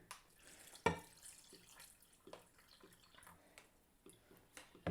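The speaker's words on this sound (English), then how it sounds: "And now I'm just going to fill it with water." Water splashes and drips into a container of cashews, with a few sharper plops and a steady trickle, fairly quiet and close.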